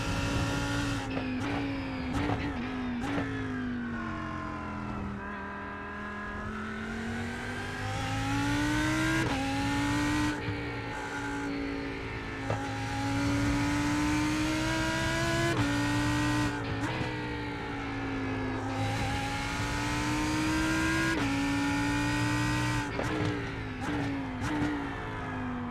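BMW M4 GT3 and Lamborghini Huracan GT3 Evo race cars in the iRacing sim, engines droning loud and continuous for the whole stretch, pitch rising and falling through gear changes, with occasional tire squeal.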